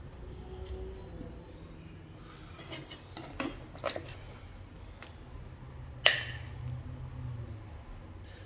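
Dishing cooked food from a pot onto plates after the stove is off, with a few soft scrapes and clinks of a spoon against cookware and one sharp metallic clack of a lid or pot, over quiet kitchen background.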